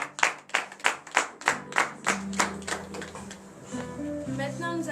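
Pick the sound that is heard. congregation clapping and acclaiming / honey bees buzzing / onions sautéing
congregation clapping and acclaiming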